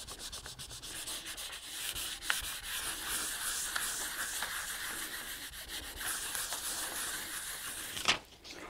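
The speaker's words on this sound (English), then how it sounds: "Just put it back down and rub it on." Decoupage transfer being rubbed down onto a surface by hand, a steady dry scratchy rubbing that runs continuously and close up, with a brief sharper tap near the end and no voices.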